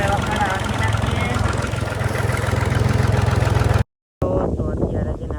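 A tractor engine runs in a field, a steady low mechanical drone with rhythmic pulsing that continues loud and close, briefly cut off before resuming.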